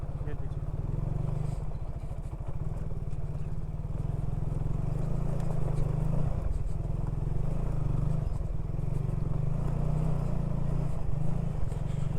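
A motorcycle rides over a rough off-road track, its engine a steady loud rumble throughout with scrapes and clatter on top, while voices talk over it.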